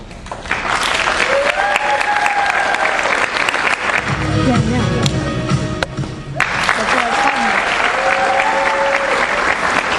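Loud, sustained audience applause at a middle school play, a dense wash of clapping that fills the hall, briefly easing in the middle before swelling again, with stray voices under it.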